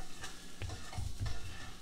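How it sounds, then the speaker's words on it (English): Peach cobbler mixture being stirred in a blender-style container, a few soft scraping swishes in a loose rhythm, close and fairly quiet. "Give it a good little stir"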